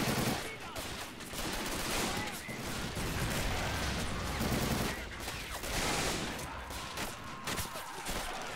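Machine gun fire in the World War II shooter game Normandy '44, sustained loud bursts with dense overlapping shots and distant explosions, while a voice talks intermittently over the battle.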